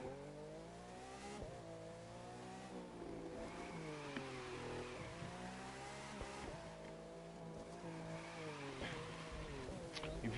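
An engine drones and revs in waves as a car in The Crew 2 drifts through mud up a hillside, pitch rising and falling through several long slides, loud and close for the whole stretch with no voices.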